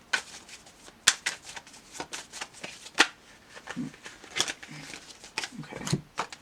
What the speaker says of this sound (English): I love the Legacy deck because it's so easy to shuffle